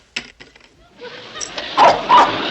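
A dog in the sitcom Petticoat Junction barks twice in quick succession near the end. The barks are fairly loud and close, following a few brief indoor voice sounds.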